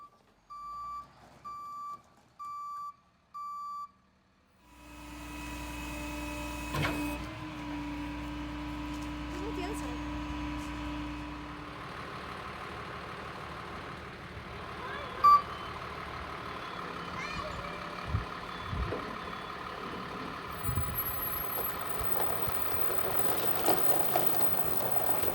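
A truck backing up to haul a vehicle away: a steady series of loud reversing beeps at the start, then a low engine rumble with air brake hiss and clanks while people talk nearby.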